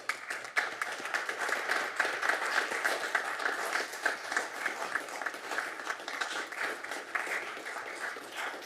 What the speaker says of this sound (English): I would like everyone in this chamber to stand up and give standing applause to Chief Stefano and our firefighters